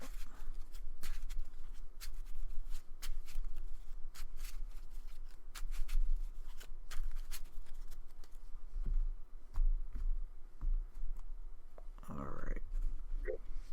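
A deck of cards is shuffled repeatedly, a steady run of soft rapid clicks and riffles lasting several seconds, ending with a louder flurry.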